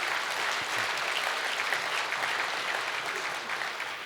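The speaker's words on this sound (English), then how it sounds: "let's give him another round of applause," A round of applause from an audience at a Georgia faith and freedom legislative luncheon, steady dense clapping filling the room throughout without a break.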